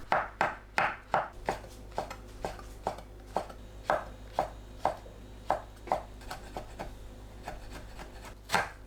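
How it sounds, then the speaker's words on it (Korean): Quick, rhythmic knife chops slicing green onions on a cutting board, bursts of rapid strokes with brief pauses, close and clear over a faint hum. "파를 썰어주세요"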